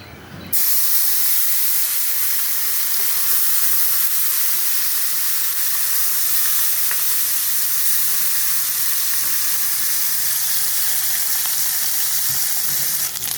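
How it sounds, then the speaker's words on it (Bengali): Fish frying in hot oil in a wok, a loud, steady sizzling hiss that starts abruptly and continues unbroken throughout. "এখন আমি কড়াইতে মাছগুলো দিয়ে ভালো করে ভেজে নেব"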